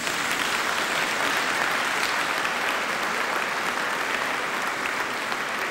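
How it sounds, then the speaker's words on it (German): A studio audience at a German TV game show in a city hall claps steadily, a dense, even wall of applause that holds at full strength throughout, with no voices above it. "Sie können hier ruhig ein bisschen klatschen, wenn es Ihnen gefällt."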